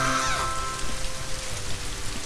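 A giant rain cloud pours rain in Scribblenauts Unlimited, giving a steady, dense hiss of falling drops for about two seconds, with a brief tonal chime fading at the start.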